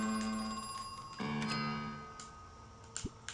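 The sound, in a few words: telephone ringing in video game Crow Country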